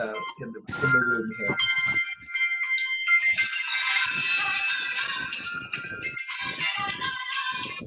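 A phone ringtone melody plays loudly and steadily over a Zoom group call, with a person talking briefly at the start and faint voices beneath the tune.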